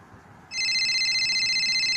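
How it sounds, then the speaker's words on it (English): A telephone starts ringing abruptly, a loud continuous electronic trill that keeps going to the end over a quiet background. "Was that your phone?"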